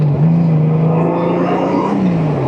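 A Honda Goldwing Tour GL1800 motorcycle engine hums at a steady, fairly loud drone under hard riding, with a slight rise and fall in pitch and constant wind rush, no talk.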